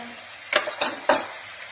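Onions with salt, turmeric and red chili powder are stirred in a frying pan, three quick scraping strokes of a spoon over a soft steady sizzle, close up and brief.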